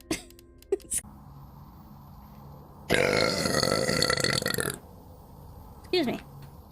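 A long, loud, low burp rumbles for nearly two seconds, set between short vocal sounds and quiet breaths before and after.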